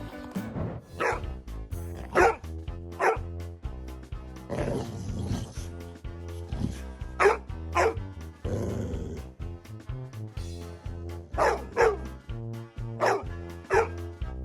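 A pet dog called Green Eyes barks to wake its owner in the morning, giving loud, close barks in repeated bursts and pairs spread across the stretch, with quieter rumbling between them.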